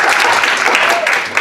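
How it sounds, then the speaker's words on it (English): An audience applauds after being asked for a round of applause, giving a brief burst of dense, loud clapping and crowd noise. "Let me get a round of applause just for memes."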